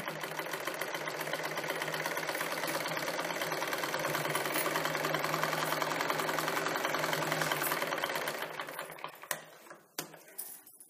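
A sewing machine runs continuously while stitching a single katori blouse, a steady close mechanical whir and rapid needle rhythm for most of the stretch before slowing and stopping near the end with a few clicks.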